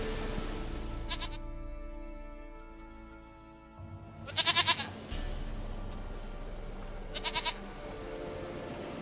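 Goat bleating in The Witcher 3, heard in two short bursts near the middle and end over a steady low game ambience and music bed, fairly close and clear, with no talking.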